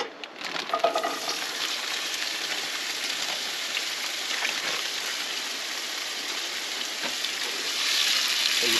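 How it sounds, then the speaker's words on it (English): Steady, close sizzling of roasted potatoes, beans and peppers frying in a pan, cooked in a van on a camping trip, a constant hiss with faint stirring clicks near the start. "roasted potatoes and some beans and some peppers. So we'll let that cook."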